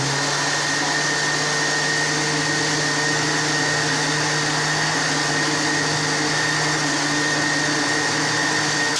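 A juicer machine whirs continuously while blending aloe vera juice with a plate in place of its lid, a loud, steady motor drone with a high whine that never changes pace.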